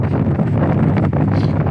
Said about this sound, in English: Okay, it's really windy.